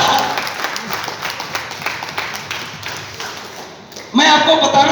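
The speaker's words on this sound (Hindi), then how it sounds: "फिर से ताली बजाइए इनके लिए जोरदार" An indoor seminar audience claps, sparse and fading at first, then a sudden louder burst of cheering and clapping near the end, with background voices mixed in.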